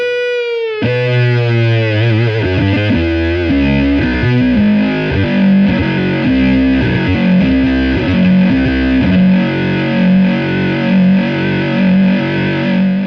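Heavily distorted electric guitar plays chords and riffs through MXR effects pedals, thick and sustained, loud and continuous with no voices.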